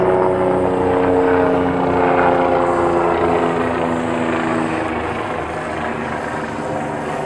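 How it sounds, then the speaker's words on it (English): A helicopter passes overhead above an outdoor nursery garden, its steady rotor and engine drone loud at first, then fading gently as it moves away. "we have a helicopter coming over now"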